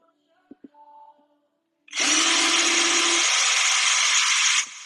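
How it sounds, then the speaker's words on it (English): A power drill whirs loudly and steadily for about three seconds after a few faint clicks and a brief hum, then cuts off. "Assuming my drill cooperates."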